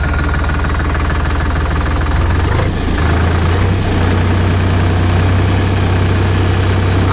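A Sonalika 745 III tractor engine idles loud and close, a heavy low diesel throb with a knocking edge that shifts and settles slightly higher partway through, with no voices.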